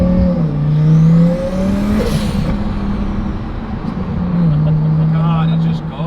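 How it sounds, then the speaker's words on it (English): A twin-turbo Lamborghini engine revs and builds, its note rising and falling through a loud, sustained pull with turbo boost, while people talk over it. "Nothing will ever beat a twin turbo Lambo in terms of sound."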